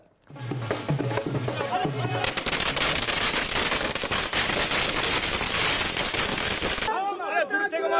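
Firecrackers burst at an election victory celebration held by BJP supporters, starting as a few separate pops and building into a loud, dense, continuous crackling barrage lasting several seconds before it cuts off abruptly.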